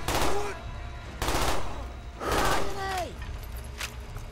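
Heavy gunfire in a Black Ops video game campaign comes in three loud, close bursts separated by short pauses, with a voice talking among the shots.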